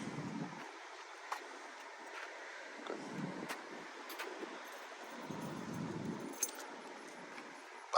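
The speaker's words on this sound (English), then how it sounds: "Get the keys, David, to open up the trunk" Keys to a 1970 Pontiac Firebird Formula 400 jingle outdoors, heard as scattered faint metallic clinks and jangles over steady wind noise, with no talking.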